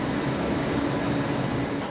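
A slow passenger train running through Romania at night gives a steady, loud rumble of wheels and carriage noise from inside the car, continuous with no talk.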